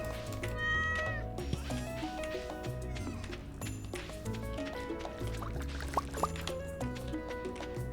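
A cat in a tile-based meadow farming video game meows repeatedly over layered melodic game music, with wet dripping and squishing effects mixed in.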